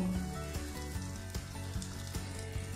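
Pointed gourd and egg fry in oil in a pan, a continuous close sizzle with soft periodic scrapes or stirring knocks spaced through it. No talking.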